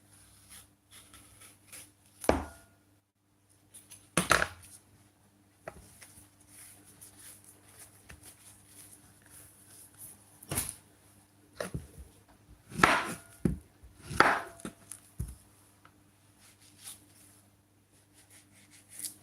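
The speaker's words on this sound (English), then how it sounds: "So I'm peeling the plantain now." Plantain being peeled and cut on a board: a handful of sharp, separate knife chops and snaps stand out over quiet handling noise and a low steady hum, with no talking.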